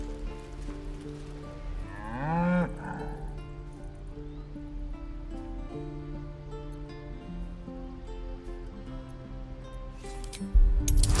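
An ox lowing in Baldur's Gate 3, a single drawn-out moo with a rising pitch sweep near the start, set against steady game music and ambience, with a louder burst of effects at the very end.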